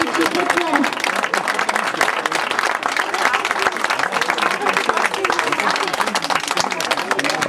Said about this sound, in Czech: A teď bych prosím největší potlesk.